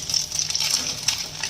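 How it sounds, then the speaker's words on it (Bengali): Cooked Dudheswar rice tipped into a hot pan of frying chillies and raisins, a bright continuous sizzle with soft scraping and a few small clinks, close and steady. "এবার আমি ভাতটাকে দিয়ে দিচ্ছি"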